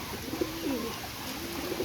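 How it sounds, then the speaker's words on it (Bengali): A Pakistani high-flying pigeon cooing in soft, low, rolling calls at close range, faint over a steady background hiss. "এটা মায়া কবুতর"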